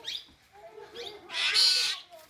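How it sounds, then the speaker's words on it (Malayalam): Harsh, raspy parrot squawks come in short bursts, with one longer, louder screech in the middle, fairly close. "തത്തമ്മേ"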